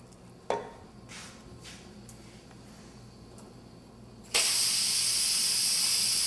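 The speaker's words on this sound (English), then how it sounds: "Just letting a little more pressure out of this." Steam rushes from a pressure cooker of risotto that was heated slightly too high: a single sharp knock early on, then a sudden, loud, steady hiss that fills the last two seconds.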